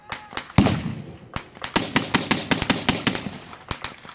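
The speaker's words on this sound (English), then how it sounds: "The one guy shooting his 45 automatic pistol" Rapid gunfire at a WWII battle re-enactment, including a .45 automatic pistol: a dense run of sharp, loud cracks in irregular bursts, with one heavier boom near the start.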